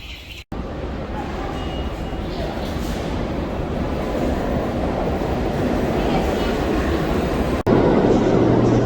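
A subway train rumbles loud and close in Harlem, New York, a continuous roar that builds steadily over several seconds, broken by a short click near the start and another near the end.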